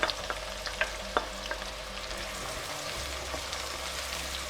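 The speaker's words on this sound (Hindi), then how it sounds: "प्याज हमारी फ्राई हो रही है" Two medium onions fry in oil in a kadhai with a soft, steady sizzle, joined by a few faint stirring clicks early on, quiet and close with no talking.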